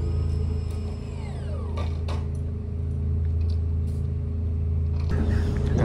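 The fully electric Pininfarina Battista hypercar hums nearby with a steady low electric drone and a rising whine. Occasional mechanical creaks and clicks are mixed in, and a voice talks over it.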